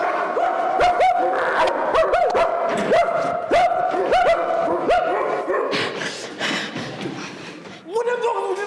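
Several dogs bark at a property gate, sharp repeated barks and yips coming in quick bursts close by, with whimpers and people's voices mixed in toward the end.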